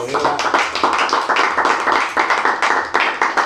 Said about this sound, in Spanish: merece un aplauso, señora